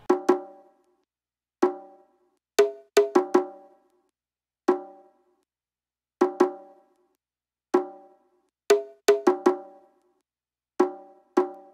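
A standalone percussion track from a song plays bright, woody, cowbell-like tonal hits in a syncopated pattern of single strikes and quick flams, each ringing briefly before dry silence.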